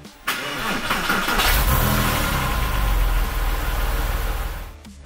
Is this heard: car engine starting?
yes